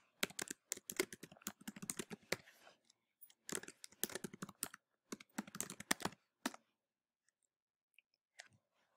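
Someone types on a computer keyboard in close, crisp bursts of rapid key clicks separated by short pauses, with a few isolated taps at the end and no talking.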